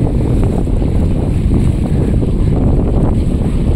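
Strong waves and gusting wind batter the far end of Sta. Teresa Port in Magsaysay, Occidental Mindoro, a loud continuous roar of surf and wind buffeting close to the microphone.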